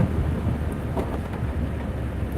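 Steady rain falling outdoors, a soft continuous wash with a few brief crackles and wind buffeting the microphone, no voices.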